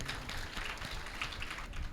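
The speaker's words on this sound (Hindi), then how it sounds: "सुभाष गोयल जी के लिए सुंदर तालियां बजाइए।" An audience at a talk on Ayurveda applauds with continuous, fairly faint clapping from a crowd that holds steady throughout.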